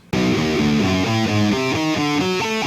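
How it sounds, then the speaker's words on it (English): A distorted electric guitar plays a fast arpeggio run of major arpeggios moving through different chords in a passage, steady and loud with no pause and no voices. "That continues into a more complex arpeggio section that sounds like this."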